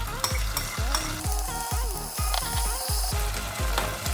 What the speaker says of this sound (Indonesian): sekarang aku mau goreng sambelnya